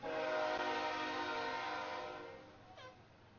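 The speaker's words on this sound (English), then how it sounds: "And here comes the train." A train passes near an outdoor lacrosse field, a rumbling pass with a long sustained horn blast that fades away, ending in a brief falling whistle-like tone; fairly faint overall, no talk.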